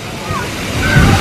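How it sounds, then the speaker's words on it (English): Water sloshes and splashes steadily at an outdoor splash pad, building louder toward the end, with excited voices talking and calling out over it. "There's like a splash pad thing over here."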